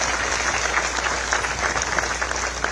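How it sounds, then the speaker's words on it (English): A large ceremonial audience applauds Prime Minister Narendra Modi at the conferral of Guyana's highest national award, a steady dense wash of clapping that holds at a constant level throughout. "I ask all of us to applaud him."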